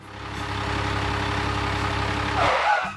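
A wood transporter truck's engine rumbles up nearby, a steady low heavy idle-like drone that swells slightly, then cuts off abruptly near the end, with no voices.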